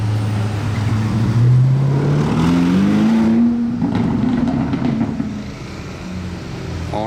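A wrapped Lamborghini Urus Mansory revs and rolls past nearby, its engine note climbing in a loud rising drone before fading out as it moves away.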